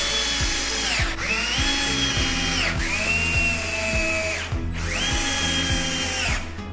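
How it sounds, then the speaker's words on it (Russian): Cordless screwdriver driving euro screws into a cabinet shelf, three loud whining bursts that ramp up and tail off between short pauses, close and clear with no talking. "Затем протягиваем их с помощью шуруповерта."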